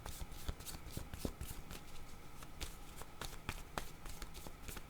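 Tarot cards are shuffled by hand, a quiet, close run of papery riffles and soft slaps with a few sharper snaps, continuing throughout.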